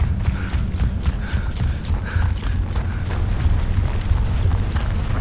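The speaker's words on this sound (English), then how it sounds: "is this game really focused on the footstep sounds?" Heavy armored soldiers tramp along in Gears of War 2, their footsteps falling as a steady rhythm of dull, weighty thuds over a low, constant rumble of game ambience, with no talking.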